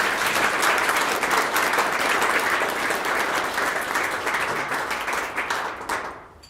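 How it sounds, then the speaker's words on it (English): An audience at a panel discussion on the future of downtown Calgary applauds its panelists, giving steady, dense clapping that holds for several seconds before tapering off. "So why don't we give a round of applause to our panelists."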